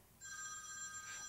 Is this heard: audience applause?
no